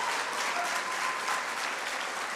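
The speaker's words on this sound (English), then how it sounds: "let us give them a round of applause" Audience applause at the Grenlec Debates finals, a steady dense clapping from a crowd that fills the whole moment at an even level with no voices over it.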